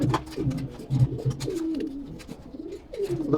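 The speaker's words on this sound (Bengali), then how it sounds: "এখানে আরেকটি মাদি কবুতর দেখতে পাচ্ছেন" A female pigeon, a homing racer flown over a 42-kilometre distance, coos close up in repeated low, rolling phrases with soft shuffling around them.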